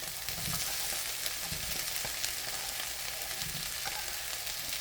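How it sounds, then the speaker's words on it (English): Potatoes frying in a pan with cooked-down onions and peppers, a continuous even sizzle with a few soft stirring and shifting sounds, close and steady without speech. "I am going to go ahead and add the potatoes to that pan."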